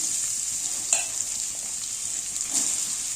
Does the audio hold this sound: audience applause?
no